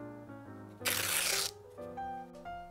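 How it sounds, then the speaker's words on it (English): A test paper rips in one short, bright tear of about half a second, set against soft music playing underneath. "he heard the test paper tear"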